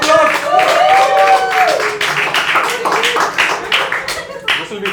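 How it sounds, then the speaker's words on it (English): An audience at a talk claps and cheers for two volunteers, giving a burst of mixed clapping under loud overlapping voices that thins out over a few seconds. "Give these 2 people a huge round of applause."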